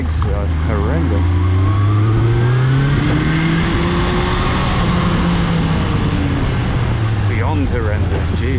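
A Honda CB650 motorcycle engine revs and pulls while being ridden, a loud, steady drone whose pitch rises and falls through gear changes, with wind rush and occasional speech over it.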